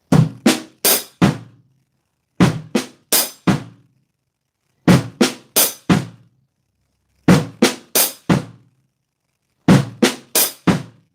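Flutter lick played slowly on a drum kit with hi-hat and bass drum: five evenly spaced bursts of four quick strokes each, crisp and close, separated by silence, no voices.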